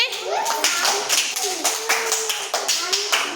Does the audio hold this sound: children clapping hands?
yes